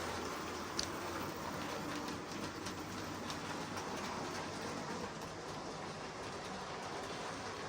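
A model train rolls steadily around a layout track, a quiet continuous rumble with soft rhythmic clicking of wheels over rail joints.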